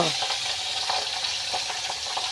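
Small, finely cut fish pieces sizzle in hot oil, a bright, continuous crackle with scattered pops and a faint stirring scrape, loud and close throughout.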